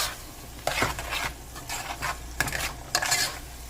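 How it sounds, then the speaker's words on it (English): A utensil stirs vegan taco filling with dry seasonings in a hot pan, scraping and clinking against the metal repeatedly over a soft, steady sizzle, with no voices. "Alright, we're going to get this stirred up,"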